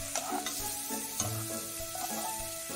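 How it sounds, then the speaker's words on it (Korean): Seasoned rehydrated dried pumpkin (hobak-goji) namul, salted with fermented shrimp, is stir-fried in a preheated pan over medium heat, giving a steady close sizzle with soft scraping stirs of the spatula repeating throughout, and no voices. "팬을 예열 후 밑간한 호박나물을 올려 중불에서 약 2분 볶아주세요."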